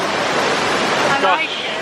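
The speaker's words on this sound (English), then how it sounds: "You're behind the fall almost, scenic." Rhine Falls in Switzerland, a large waterfall heard from a walkway almost behind the falling water: a loud, steady, broadband roar of rushing water that covers the whole short stretch.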